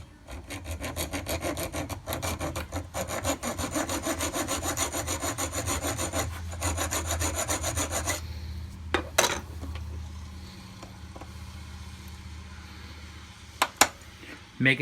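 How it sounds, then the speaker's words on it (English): A hacksaw cuts a groove into a broken clutch bolt on a Kawasaki KE100 motorcycle, rasping in a steady back-and-forth rhythm for about eight seconds, then stopping, followed by a few faint metallic clinks and scrapes. "I took a what do you call it, the hacksaw, and just put a little groove into it."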